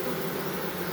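Russian honey bees swarm around a newly installed hive, a dense continuous buzz humming close and steady with no pauses and no voices.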